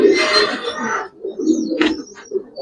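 Giribaz pigeons coo in a loft, several soft throaty coos repeating close by, with a brief fluttery rustle among them.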